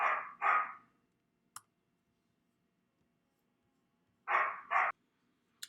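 Two pairs of sharp dog barks several seconds apart, close and loud in a quiet room, with a faint tap between them.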